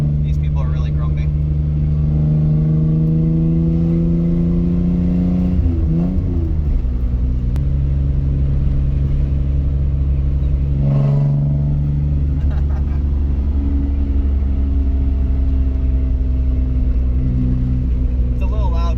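A Nissan 300ZX project car drones loudly from inside while driving, its engine and exhaust holding a steady, throaty tone that rises and dips with throttle changes and gear shifts.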